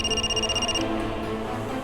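Telephone ringing in a domestic scene from a Hindi TV drama, a rapid electronic warbling trill for just under a second, then fading into low background sound.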